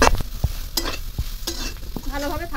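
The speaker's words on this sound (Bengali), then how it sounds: "ভালোভাবে শাকের সঙ্গে মিশিয়ে নিলাম একদম।" Susni greens fry in mustard oil in a wok while a spatula stirs them, giving repeated scraping strokes and bright clinks over a soft sizzle, close and busy, with no voices.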